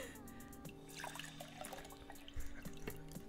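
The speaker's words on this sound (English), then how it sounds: "It's like a little water fountain going on in the background." A soft trickle of water, like a small fountain, runs in the background behind a tabletop card game, with faint clicks and light drips rising and falling.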